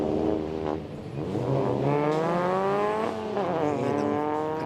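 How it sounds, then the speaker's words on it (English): Junior touring race cars accelerate off the final corner at Snetterton, engines revving hard and climbing through gears in a loud continuous scream with a brief gear change midway and no talk over it. "Accelerating off the final corner. They make a really nice noise,"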